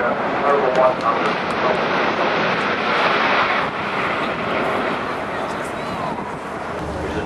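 An Airbus A380 with Rolls-Royce Trent 900 engines performs a flying display at the Farnborough 2008 air show: a continuous, loud, broad jet roar, with a commentator speaking over it throughout.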